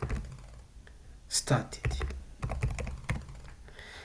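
Typing on a computer keyboard while entering text in a spreadsheet, with irregular close clacks of keys in small bursts and a voice speaking briefly.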